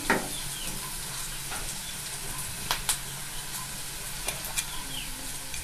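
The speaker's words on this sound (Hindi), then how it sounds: "इसको थोड़ा सा चला देते हैं।" Pumpkin leaves fry in a pan over a medium-low gas flame while being stirred, a steady sizzle with occasional scraping knocks and clicks of the spoon against the pan.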